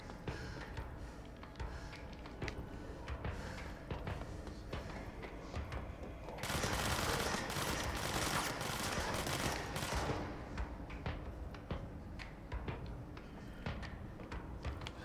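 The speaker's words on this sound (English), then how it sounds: "He's shooting." Sustained gunfire from the video game Control, a dense burst of rapid shots dominating the middle of the clip amid ongoing game sounds and scattered impacts.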